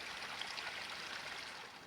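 Stream water flowing at Oak Camp in the Los Padres backcountry, a steady, soft rushing and trickling heard up close with no voices.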